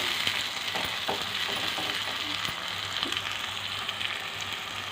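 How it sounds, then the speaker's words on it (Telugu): Onions frying in hot oil in a pan while a mixed vegetable curry is being cooked, a steady, close sizzle and crackle with occasional light stirring sounds and no talk. "చూడండి ఆయిల్ మరిగింది ఇప్పుడు ఆనియన్స్ వేస్తున్నాను ఆనియన్స్ ఫ్రై అయినంత వరకు"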